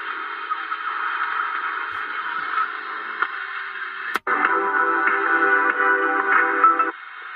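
A CB radio hisses with band static as channels are flipped, a steady loud noisy rush with a sharp click partway through where the tone shifts, then cuts off near the end.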